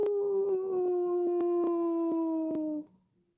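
A voice imitates a soft wolf howl, one long sustained tone gliding gently downward before trailing off into quiet.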